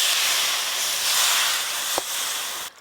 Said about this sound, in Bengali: এবার পরিমাণ মতো জল দেব।